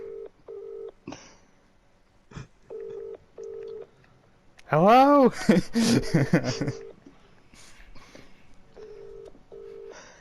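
Repeating double-burst ringback tones of a phone call to a mobile number pulse at a steady rhythm, broken midway by loud, lively talk and laughter before the ringing resumes, with a voice answering at the start.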